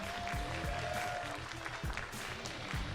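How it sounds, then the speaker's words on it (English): Steady applause from a crowd at the TGR GT Cup Asia Finals 2024 motorsport event fills the whole stretch, dense and continuous, with a faint voice briefly audible underneath. "Big round of applause for Cambodia and Vietnam representatives for being here as well."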